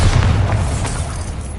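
Bombarda blasting spell going off in Hogwarts Legacy, a single loud, deep booming explosion with a heavy low rumble that fills the whole moment and slowly fades.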